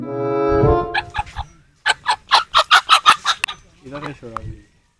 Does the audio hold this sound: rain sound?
no